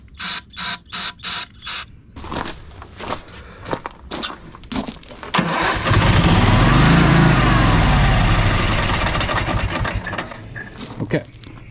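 A small carbureted homestead engine is sprayed with carb cleaner in a few short hissing bursts. It then sputters and catches, firing into a loud, close, revving run that swells and slowly eases.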